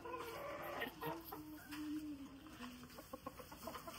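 Hens cluck and murmur in a poultry shed where laying hens are kept, soft overlapping calls at close range with a few short sharper clucks, fairly quiet overall.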